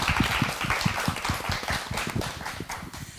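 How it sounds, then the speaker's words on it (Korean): An audience at a by-election talk concert claps in a rapid, dense patter of handclaps that stays fairly loud and even throughout, with no speech over it. "박수 주세요"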